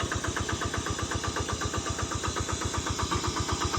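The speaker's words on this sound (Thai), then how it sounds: "คันนี้เป็นเครื่องยนต์คูโบต้า8 แรงนอกนะครับ" The 8-horsepower Kubota diesel engine of a rotary tiller runs steadily nearby, chugging in a fast, even rhythm with a knocking mechanical beat.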